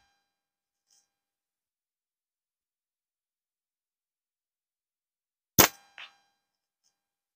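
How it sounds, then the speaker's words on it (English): A slingshot ball from a Micarta Cygnus catapult strikes a wooden post at about 30 yards, a single loud sharp crack after near silence, followed by a fainter short rattle. "I think I hit the post underneath him"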